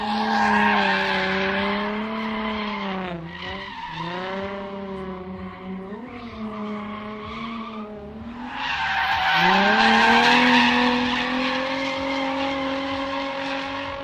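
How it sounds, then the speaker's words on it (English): A Nissan 350Z drift car skids loudly at a drift pit, its tires squealing in long, wavering, tonal screeches that dip and rise with the engine. The sound swells to its loudest near the end and carries on without speech. "Those tires are loud on that 350Z."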